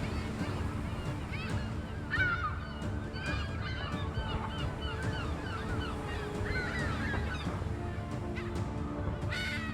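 Yellow-legged gulls in Spain call repeatedly in honking, squealing bursts over a steady low rumble, with many birds overlapping at moderate distance.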